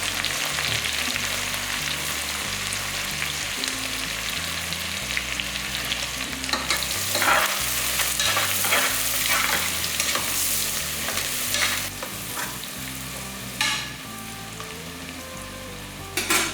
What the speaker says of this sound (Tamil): எல்லாம் ஒன்றா சேர்ந்து பொரியும் போது இன்னும் நல்லாயிருக்கும்.